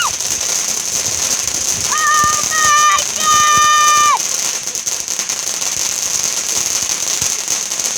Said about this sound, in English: It was like dodging the fireworks.